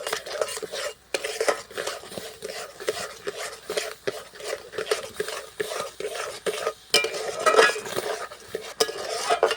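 Raw green mango and sugar mixture stirred nonstop in a pan for hard candy, a spoon scraping the metal in steady repeated strokes, close and fairly loud, with faint clinks and no talking.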